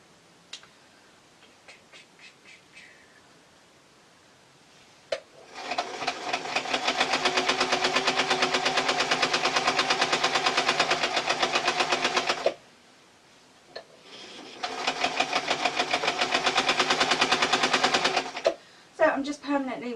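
A basic modern sewing machine stitches a T-shirt dress with a French seam in two long, steady, buzzing runs, the second one shorter. Brief handling clicks and short pauses come between the runs.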